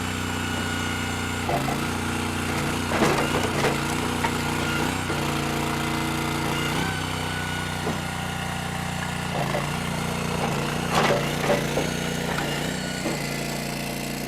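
An all-wood log splitter running while splitting logs into firewood, with a steady engine drone throughout and periodic cracks and thumps as the wood splits, loud and close with no speech.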